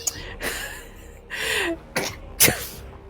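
An old dog gives a few short, harsh hacking coughs with gaps between them, close by, as if trying to clear its throat.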